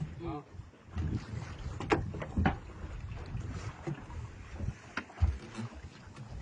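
A boat comes in on coastal water off the Bay of Bengal, with wind buffeting the microphone, low rumbling movement, splashes and scattered voices in the background.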